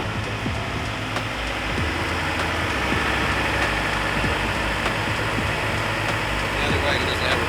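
A station wagon's engine idles high while warming up near the listener, a steady, rumbling low constant drone with faint mechanical ticking throughout.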